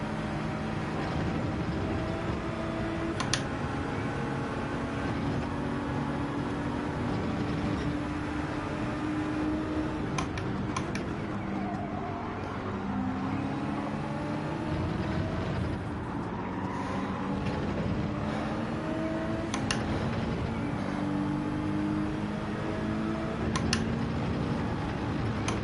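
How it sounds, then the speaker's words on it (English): A GT3 race car engine drones steadily in Gran Turismo 7 during open-lobby online racing, a continuous mechanical hum with faint rising and falling pitch, and no talk. "I can hear the engine."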